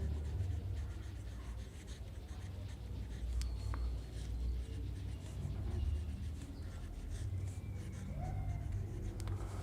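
A pen writing math on paper, faint scratchy strokes in short bursts over a steady low background hum, with no talking.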